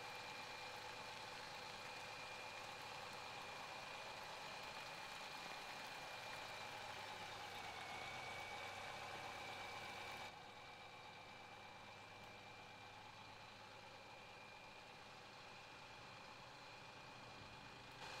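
A farm truck engine in the Farming Simulator 17 video game hums steadily while driving, a continuous mid-pitched drone that drops slightly in level partway through.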